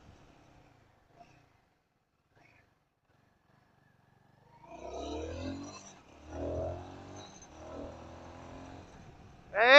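A Royal Enfield Guerrilla 450 motorcycle engine revs in several short bursts during a test ride, after a few seconds of near silence, ending with a sharp louder rise.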